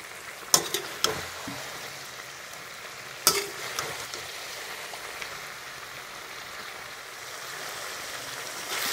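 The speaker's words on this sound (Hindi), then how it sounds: "इन सब्जियों को तेल में पकते हुए लगभग 20 मिनट हो गए हैं। मैंने इन्हें तेज आंच पे ही पकाया है और बीच बीच में हिलाया है।" Mixed vegetables (carrot, cauliflower and turnip) fry in oil over a high flame, giving a steady close sizzle like light rain, broken by a few sharp clinks and scrapes as they are stirred.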